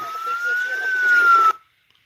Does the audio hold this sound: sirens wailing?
yes